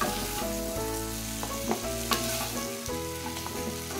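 Chopped bell pepper sizzles steadily in a hot pan, a loud, continuous frying hiss with a few soft stirring clinks, no voices.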